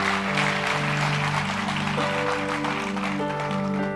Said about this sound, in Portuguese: Dê o melhor aplauso que você pode dar a Deus.